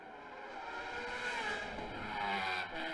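A race car at the Macau Grand Prix during free practice roars through a lap, its engine note rising and sweeping as it passes, moderately loud with a distant, open feel and no speech.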